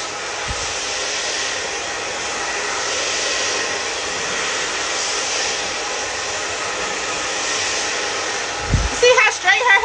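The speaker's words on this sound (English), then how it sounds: "The blow dryer is to dry the hair." A blow dryer runs steadily at close range, drying hair, with a continuous loud airy whir that holds level for most of the stretch before a few brief knocks and handling sounds near the end.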